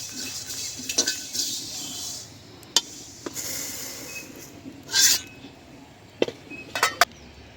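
Nigella seeds (kalo jira) fry in a pan in a kitchen beside a pond, with a faint low sizzle under sharp metallic clinks and scrapes of a utensil stirring, spaced irregularly and loudest near the end.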